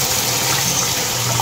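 Water pours steadily into a cooking pot of chicken wrapped in lemongrass with taro, a loud continuous splashing rush with no break, close by.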